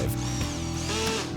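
A power drill drives screws into wood joints made with a Kreg jig, a steady motor whir with slight ratchety variation running loud and close for a moment, with no talk.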